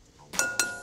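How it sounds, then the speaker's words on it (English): Eggs are cracked against a mixing bowl while making strawberry banana bread, giving two quick, close, sharp taps a moment apart. "just crack those bad boys in there."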